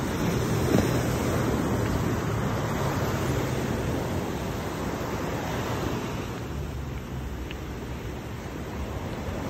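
Waves wash continuously onto a black sand beach in Puerto Viejo, Costa Rica, a broad steady surf roar mixed with wind buffeting the microphone.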